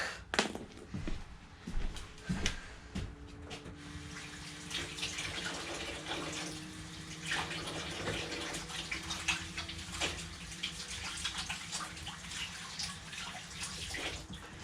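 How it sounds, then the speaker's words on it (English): Hands being washed under a running kitchen tap, a continuous splashing stream of water with occasional drips and small knocks, fairly quiet and steady throughout. "before I get started making the next batch of this, I gotta wash my hands"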